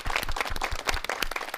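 Brief, scattered clapping from an audience at a public town-hall style gathering, irregular and fairly faint, lasting under two seconds.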